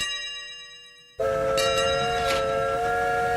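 A train starts in the video game Train Valley with synthesized tones: a fading tone cuts off, then a bright, sustained whistle-like chord sounds with brief chime accents.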